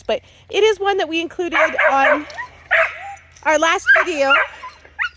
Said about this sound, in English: He's excited about the sound of the sled dogs